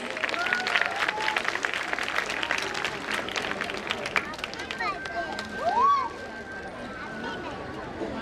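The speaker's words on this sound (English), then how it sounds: "A huge round of applause, audience." An audience at a school scholarship event applauds steadily, moderately loud and slightly distant, with crowd chatter and a brief whistle-like tone partway through.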